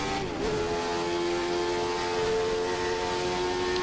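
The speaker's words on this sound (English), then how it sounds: "Full revs now on the engine." A Jordan 191 Formula One car in a racing video game holds full revs, a steady, loud, high-pitched engine drone with strong harmonics that barely wavers throughout.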